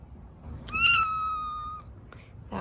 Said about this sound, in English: That was my cat meowing.